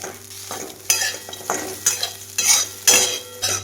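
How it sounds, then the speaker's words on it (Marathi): Ground corn roasts in ghee in a pan, stirred in repeated scraping bursts over a soft sizzle, close and fairly loud. "तर आता त्या गाठी फोडून घेऊन मी छान असे हे भाजून घेणार आहे."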